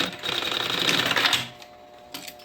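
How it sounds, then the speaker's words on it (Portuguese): A sewing machine topstitches a decorative seam along the folded edge of a backpack panel, a dense rapid whir for about a second and a half, then stopping, leaving faint handling noise and a brief click. "E vou rebater uma costura também, de aparência."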